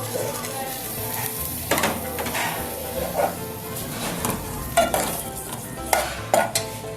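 A chopped medium-sized onion fries in a cooking pot, giving a steady sizzling hiss with scattered scrapes and knocks from stirring.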